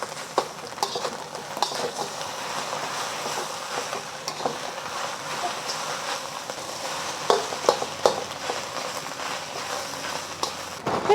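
Shrimp and eggs go back into fried rice in a wok, a steady close sizzle with scraping stirs and a few sharp clinks of the utensil against the pan, with no talking.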